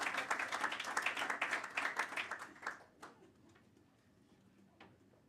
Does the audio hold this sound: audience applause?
yes